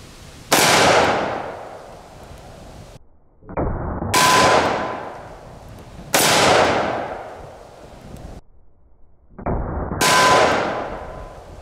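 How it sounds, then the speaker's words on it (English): Four loud, sharp revolver shots from a .460 Smith & Wesson Magnum with a 3-inch barrel, each a booming crack with a ringing decay, spaced about two to three seconds apart, outdoors with no talking. "460 Smith & Wesson Magnum 3-inch barrel."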